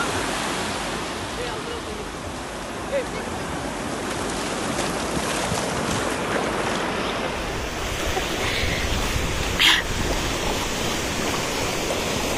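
Surf rolls onto the sand at Arambol beach in Goa, a steady broadband wash with no distinct breaking crashes, close and continuous throughout.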